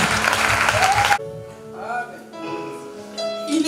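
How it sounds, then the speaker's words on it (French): A church congregation cheers and applauds for Jesus Christ, a dense burst of clapping and shouts that cuts off abruptly, followed by sung or chanted voices over quiet keyboard music. "Est-ce que tu peux acclamer pour Jésus-Christ?"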